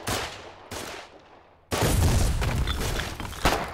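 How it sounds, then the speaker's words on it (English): Gunfire in the war video game Foxhole: a couple of sharp shots with decaying tails, then a dense, sustained roar of rapid automatic fire and booms, loud and close. "Gary, come on, shoot this thing."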